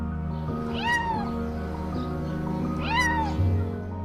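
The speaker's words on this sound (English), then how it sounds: "the man heard the cry of the little kitten" A small kitten stuck in a car's engine compartment cries, two clear high meows about two seconds apart, close and fairly loud over a low steady hum.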